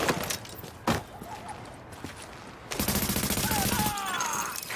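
Turret gunfire in the video game The Division, with bursts of rapid automatic shots loud and close, starting and stopping across the stretch with brief pauses between volleys.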